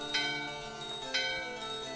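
Two bells ring together in the Final Fantasy IX video game, their sustained metallic tones layered over a humming game soundtrack, with soft repeated strikes roughly every second.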